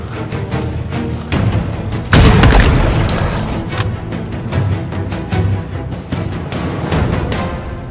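Gunfire in a shooter video game: a sharp, loud blast around two seconds in, followed by a string of quicker, lighter shots that continue to the end.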